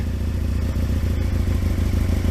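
A cold sport motorcycle engine, a ZX12R or RSV Mille, idling on choke with a steady, dense low rumble and rapid even firing pulses, loud and close, no voices.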